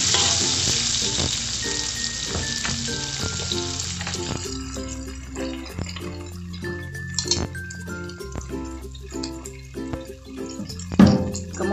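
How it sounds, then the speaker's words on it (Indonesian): Onions stir-fried in a small amount of hot oil while cooking spicy prawns, a steady crackling sizzle with scattered pops and clinks of a spatula against the pan throughout. "Kemudian langsung aja saya tumis bawang bombaynya."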